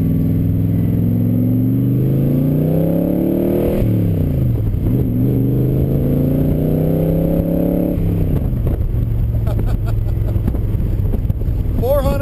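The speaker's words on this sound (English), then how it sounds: "we're just going to take this car for a real quick little spin" A 2004 Superformance replica of a 1964 AC Cobra, a 440-horsepower V8, roars loudly from close by on a short drive, revving up through gears with rising and falling pitch amid wind buffeting.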